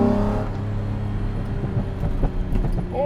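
Jaguar E-Type sports car engine on the overrun, a low throaty rumble with crackles and burbles as the revs drop, fairly close.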